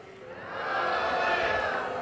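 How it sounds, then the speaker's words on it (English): A small crowd at a John McCain political speech hoots and hollers, swelling from a murmur to a louder, sustained cheer that fades slightly, mixed with talking voices. "relatively small crowd, occasionally people kind of hooting and hollering"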